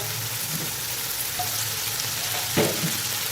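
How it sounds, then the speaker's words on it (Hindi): Tomatoes fry over low heat in a pan with chicken liver, turmeric and salt, giving a steady close sizzle with faint stirring scrapes and no talk. "अच्छी तरह टमाटर को सॉफ्ट होने तक हम इसको फ्राई करेंगे हल्की आंच पे।"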